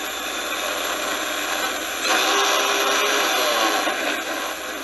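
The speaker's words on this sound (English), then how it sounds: "I don't like that motor sound. There's something going on with that prop." Small electric motor on a model airplane with an out-of-balance propeller, a steady high-pitched whine and buzz that swells louder midway and holds, no voices.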